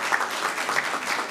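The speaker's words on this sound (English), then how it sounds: "So if we could give him a round of applause" A round of applause for Jared Solomon at a school board awards ceremony, a dense, even wash of many clapping hands, steady and moderately loud throughout, with no talk over it.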